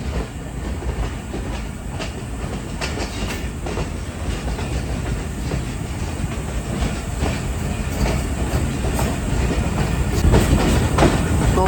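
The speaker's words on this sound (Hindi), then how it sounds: "ट्रेन हमारी आहिस्ता आहिस्ता पहाड़ से नीचे उतर रही है" Khushal Khan Khattak Express passenger train rolling slowly downhill off a mountain, a steady broadband rumble of wheels and carriages with faint rhythmic clacks and hiss, heard from inside the train.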